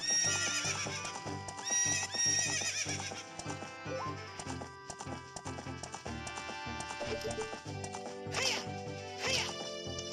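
A horse whinnies loudly over steady hoofbeats and bright synthetic game music in The Legend of Zelda: Ocarina of Time 3D, followed by more neighing near the end.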